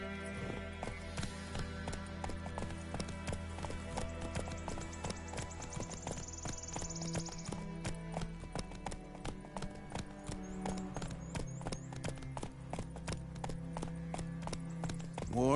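The horse Roach gallops in The Witcher 3 on PS5, with a continuous, steady clatter of hooves mixed with game music and ambience, carrying on throughout without pause.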